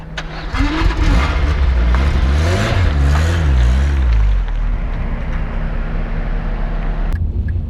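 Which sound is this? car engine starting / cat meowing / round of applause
car engine starting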